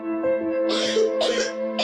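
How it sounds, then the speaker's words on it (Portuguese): A boy coughs and hacks hoarsely after smoking, giving two or three rough, close bursts with a spitting sound among them, over a steady low background hum. "O menino cospe e tosse bastante depois de fumar 3 hastes."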